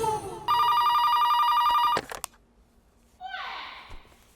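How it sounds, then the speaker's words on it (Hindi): A telephone ringing tone sounds while a call is placed, a steady electronic ring of about one and a half seconds that is cut off by a click. A short, faint voice-like sound follows. "नीना जी को फोन लगा"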